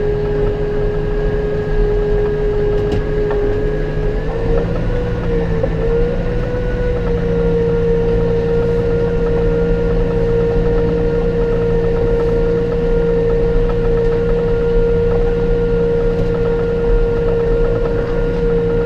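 A 5711 Dyna-4 tractor engine drones loud and steady close by while raking thick rye, its pitch shifting slightly partway through, with no voices.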